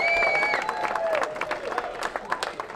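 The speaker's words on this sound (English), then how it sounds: "big round of applause for your best man, Kenny" Wedding guests at a reception at The Breakers on Ocean in Spring Lake, NJ applaud the best man, Kenny. The clapping and cheering rise under a held tone and faint voices, then thin into scattered claps.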